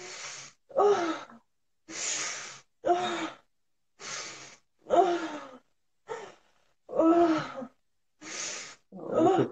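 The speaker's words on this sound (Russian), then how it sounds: "Дыши, дыши." Deep, rhythmic breathing during a guided breathing exercise: about ten loud breaths in close succession, each a rough, gasping rush of air separated by short silences.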